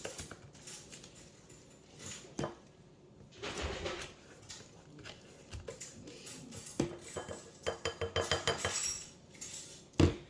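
Brown sugar scooped with a two-tablespoon scoop, heard as quiet scraping and metallic clinks of the scoop against a container, building to a run of rapid taps near the end, with faint background noise.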